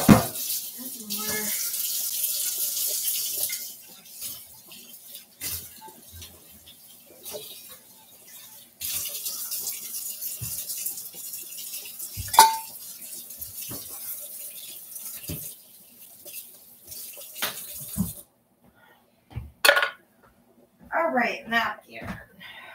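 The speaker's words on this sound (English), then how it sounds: "let me just rinse this out." A pan rinsed under a running kitchen tap, with a steady close rush of water in long stretches broken by clanks and splashes, then brief bursts near the end as the flow stops and starts.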